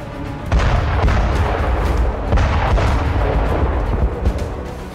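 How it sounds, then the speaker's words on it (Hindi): Thermobaric bomb explosions in Vuhledar, a war zone in Donetsk, heard as a continuous heavy roar of deep rumbling blasts, loud and dense with surging booms throughout. "थर्मोबैरिक बम का हमला बुलेदर में किया गया।"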